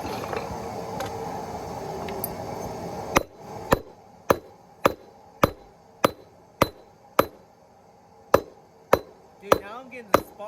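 Hot steel is hammer-forged on an anvil in a blacksmithing session: after a stretch of background noise, about a dozen sharp, ringing hammer blows land in a steady, evenly spaced rhythm, close and loud.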